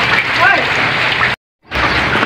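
Heavy typhoon rain pours down in a steady, dense wash of noise, cut by a brief silent gap before the downpour resumes, with faint voice traces underneath.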